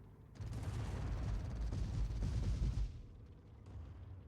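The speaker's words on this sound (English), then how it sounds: "I think somebody was just blasting away one of those auto cannons" An auto cannon in a video game fires a rapid burst of heavy booming rounds for about two and a half seconds, loud and dense, then stops and leaves a faint fading rumble.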